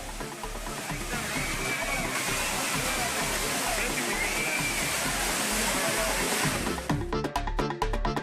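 Heavy, steady rush of the Courtallam waterfalls in Tamil Nadu pouring continuously at full volume, broadband roar filling the whole stretch, with a brief burst of choppier splashing near the end.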